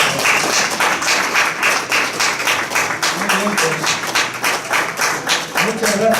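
Audience applause after a poetry recital, a steady wash of many hands clapping in a room, sustained and fairly loud throughout, with a few faint voices mixed in.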